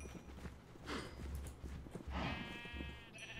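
Sheep bleat in Minecraft, two short calls over steady clip-clopping and low rumble at moderate volume.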